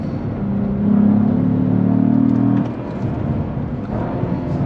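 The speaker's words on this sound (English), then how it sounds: "Nice downshifts" A 2022 Cadillac CT4-V Blackwing with a 6-speed manual rumbles loudly up close, its engine swelling into a strong sustained rev for a couple of seconds before dropping back to a lower drone.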